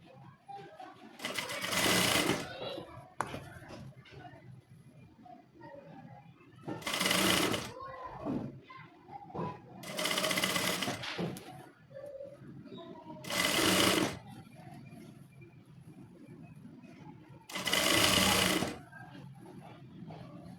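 A sewing machine stitching a sleeve runs in five loud bursts of a few seconds each, separated by pauses in which a person talks.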